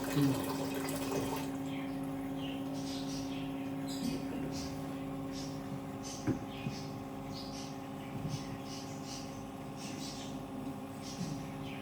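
Water drains steadily from a water purifier tank under a constant mechanical hum, with scattered small splashes and clicks throughout; no one speaks.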